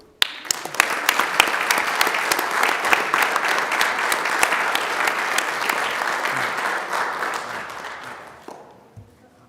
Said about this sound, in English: a round of applause for mentors Laika Rumler, Marcella Bandin, and James Schultz